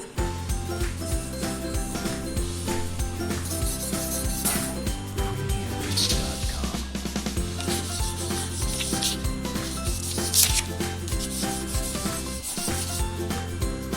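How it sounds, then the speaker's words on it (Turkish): Colored pencils rubbing steadily across paper while colouring a paper pinwheel, a continuous close scratchy scribble running throughout over a faint busy background. "Başka renkle de boya."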